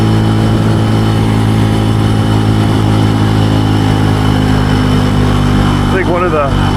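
A Benelli TNT135 small motorcycle being ridden, its engine holding a steady, loud droning hum throughout with little change in pitch.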